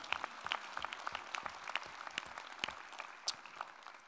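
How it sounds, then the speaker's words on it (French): Steady audience applause at a general assembly meeting, many hands clapping together, a dense crackling patter that holds at an even level from start to finish. "On peut vous applaudir, Philippe Morin."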